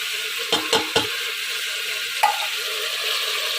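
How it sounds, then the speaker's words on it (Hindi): Beef frying in a pot with spices for haleem, a constant close sizzle with a few quick scraping clicks of a utensil against the pan. "गोश्त हमारा फ्राई हो चुका है। अब इसमें मैं इसके स्पाइसेस शामिल कर देती हूँ।"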